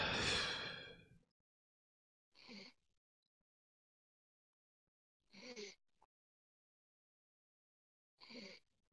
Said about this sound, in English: I'm just breathing hard.